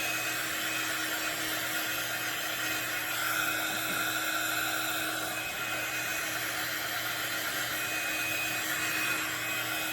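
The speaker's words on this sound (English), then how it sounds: "you can bring in your embossing gun and dry it" An embossing heat gun dries wet cardstock with a steady, loud, high-pitched whirring blower hum that holds constant throughout.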